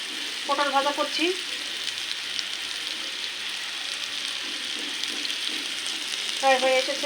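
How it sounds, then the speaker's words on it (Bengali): Slices of pointed gourd (potol) fry in oil in a home kitchen with a steady, close sizzle and crackle. Short bursts of a voice sound near the start and end. "পটল ভাজা করছি,"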